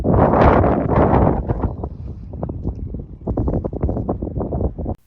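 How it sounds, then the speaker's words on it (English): Strong wind buffets the microphone in Badlands National Park, a loud, rough roar in uneven gusts that eases slightly midway and then picks up again, with no voices. "Then we entered Badlands National Park and the wind was so strong."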